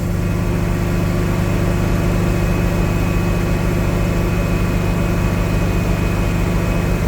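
A car engine fitted with 40, 44 and 48 IDF carburetors runs steadily at about 3,000 RPM, a loud, even drone with no change in pitch throughout.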